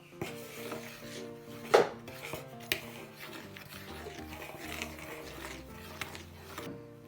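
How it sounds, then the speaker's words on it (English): A spoon rubs and taps inside a bowl as a kids' fossil-print craft mixture is mixed, with soft scraping strokes, a couple of louder knocks and faint music-like tones underneath. "Just mix it with our spoon."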